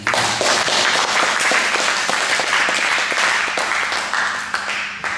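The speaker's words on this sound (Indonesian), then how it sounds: "Kita beri tepuk tangan." Loud, dense applause from a church congregation fills the space, a close and continuous wash of many hands clapping that holds steady and then eases slightly near the end.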